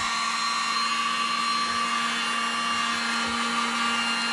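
A heat gun blows with a steady, loud whooshing hum and an even tonal drone throughout, shrinking large heat shrink tubing over the edges of a battery pack.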